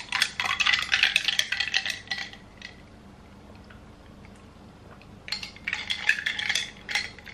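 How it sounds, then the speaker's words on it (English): A spoon clinks against the inside of a cup while a hazelnut-flavored drink is stirred, two bursts of quick rattling taps with a quiet pause between them. "Give it a little stir."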